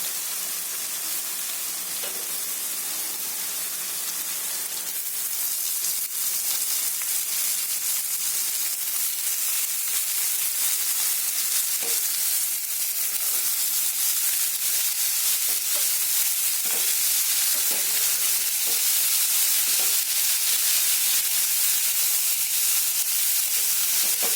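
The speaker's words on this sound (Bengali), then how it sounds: "দেখুন আলুটা বেশ ভাজা ভাজা হয়ে গেছে। এখন দিলাইমু শাক।" Potatoes frying in a pan with mustard greens being added produce a steady, loud broadband sizzle and hiss that holds evenly throughout, broken by a few faint stirring clicks.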